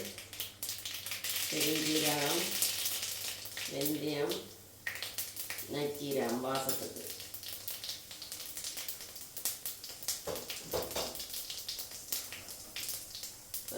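Mustard seeds fry in hot oil for a fish curry, giving a steady crackling sizzle with scattered pops and spatters, while someone speaks over it.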